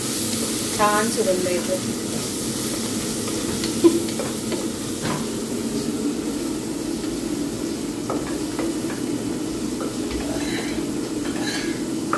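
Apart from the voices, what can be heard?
masala frying with a little hot water added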